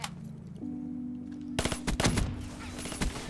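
Weapon fire in Black Ops 4: a quiet hum, then a sharp close burst of rapid shots followed by a few more scattered cracks, with no talking.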